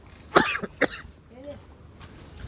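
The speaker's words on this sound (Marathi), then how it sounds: "खोकला खूप जोरात खोकला झालं" Two loud, sharp coughs come in quick succession close to the microphone, followed by quieter breathing and faint background noise.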